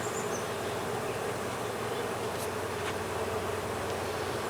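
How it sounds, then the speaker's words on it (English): Constant low buzzing of many bees swarming around a heavy honeycomb outdoors, a steady drone with no talk. "There are a lot of bees around here."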